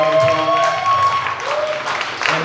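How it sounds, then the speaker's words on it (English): An audience claps at an evening tech-funding panel event, with steady applause running under a voice that carries through the clip. "If you give them a round of applause."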